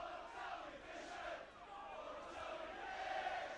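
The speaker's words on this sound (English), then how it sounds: "Listen to the crowd." A rugby league crowd at a 1994 Doncaster versus Castleford match roars and cheers after a hat-trick try, a loud sustained swell of voices with chants and shouts rising and falling.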